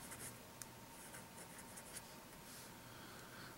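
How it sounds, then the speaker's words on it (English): A fountain pen with a left oblique grind nib writes on a Rhodia dot pad, a faint, continuous scratchy whisper of nib on paper with small strokes, heard close up and without talk. "this is the first time writing with it on a Rhodia dot pad"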